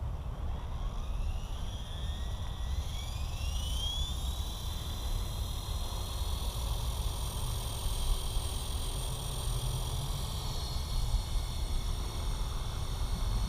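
The rotor of a Blade Fusion 180 RC helicopter spools up slowly, a thin whine climbing steadily in pitch over a constant broadband whoosh, close and sustained without talk.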